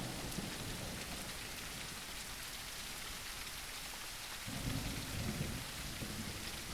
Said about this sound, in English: With what I believe is a thunderstorm.